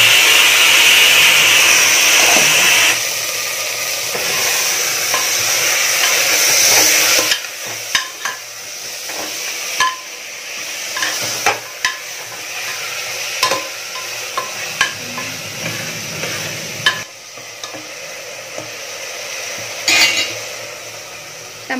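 Mutton sizzles and fries in a pan, a steady hiss at first, then quieter with repeated scraping and stirring knocks from a utensil against the pan.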